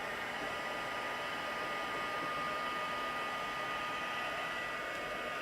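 Heat tool blowing steadily to heat set craft work, a continuous airy whoosh with a constant hum at a fairly low level, unbroken throughout.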